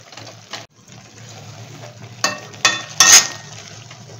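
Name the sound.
stirring mashed paneer and sugar in a pan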